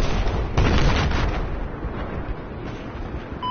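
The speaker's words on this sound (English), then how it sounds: "There's a lot of explosions going on." Dense, booming explosions and distant gunfire roll together in a chaotic Battlefield 4 battle din, loudest early and then fading into a sustained rumble.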